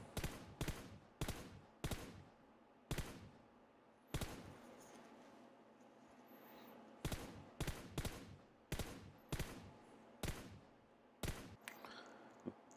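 Gunfire in PUBG Mobile while shooting at a stationary target, loud close bursts of rapid shots in repeated short volleys separated by brief pauses.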